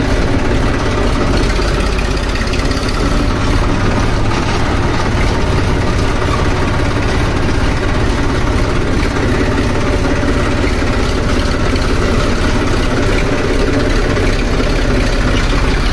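A tractor engine idles loudly and close by, a steady, unbroken diesel rumble that holds throughout with no pause and no voices.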